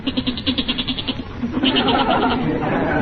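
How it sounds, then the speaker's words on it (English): A goat sound effect from a 1945 radio comedy drama bleats in a rapid, wavering run of loud, close calls, then a second, rougher stretch of bleating follows. "No, that's not my father. That's the goat."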